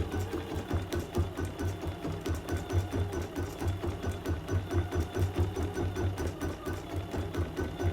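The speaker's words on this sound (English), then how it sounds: "So I'll keep stitching on this and finish it up" A sewing machine stitches through a mat, running in a steady, fast, rhythmic whir with an even mechanical pulse that continues without pause, close and clear, with no talking.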